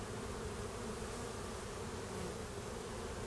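A huge winter honeybee population hums loudly and continuously right beside an open hive as brood frames are checked, a constant buzzing wall with no talking.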